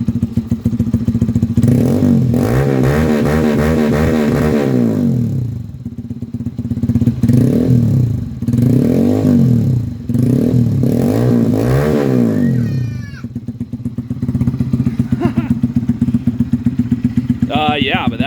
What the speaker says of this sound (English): Give it some revs here.